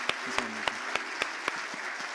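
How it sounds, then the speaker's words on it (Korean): A Korean church congregation claps for its departing elders, a steady run of distinct claps about every quarter second and fairly soft in a reverberant sanctuary, with a faint voice underneath at the start. "수고하셨다는 의미에서 다시 한번 박수로 한번"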